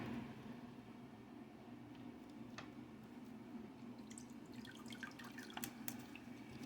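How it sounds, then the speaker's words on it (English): Lemon juice trickling and dripping into a container in a quiet room, with soft irregular drips and small splashy taps that grow busier toward the end, close and faint over a low steady hum. "I'm going to pour some lemon juice in there."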